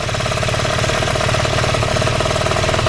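A moped engine fitted with a Naraku 47mm cylinder kit and stock head idles steadily and loudly close by, with a rapid, even putter and a mechanical rattle throughout.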